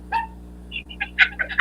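A dog gives a few quick, short barks and yips at moderate distance over a steady low background hum, with the bursts bunched closer together toward the end.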